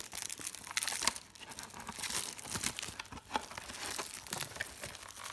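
Plastic packaging on a new high-speed monster truck toy is peeled and torn open, giving close crinkling and tearing rustles with a few sharper crackles and no talking.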